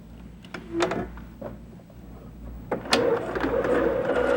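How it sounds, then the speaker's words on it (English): Sewing machine running over an existing row of stitches, short bursts of mechanical whirring separated by pauses and light handling clicks, close and moderately quiet. "You're stitching over the existing row of stitching."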